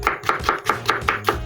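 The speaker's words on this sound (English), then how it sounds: "These are our peeled tomatoes. Just rough chop them." Knife rough-chopping peeled tomatoes on a board for an Italian Bolognese: seven evenly spaced, close, crisp chops at a steady rhythm, with no talking.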